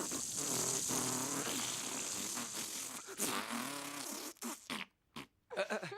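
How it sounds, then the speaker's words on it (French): Whoopee cushion fart noises from the Garfield film: a loud, sputtering, buzzy blast that runs for several seconds, then breaks into short choppy bursts with gaps. "Les coussins prouteurs."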